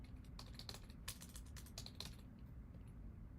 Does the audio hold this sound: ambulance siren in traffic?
no